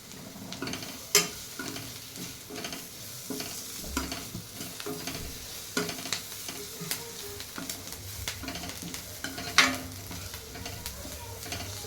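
Curry leaves and homemade black masala sizzle in hot oil while a kurdai vegetable dish is stirred, a close steady frying hiss broken by spatula scrapes and sharp pops, with no talk.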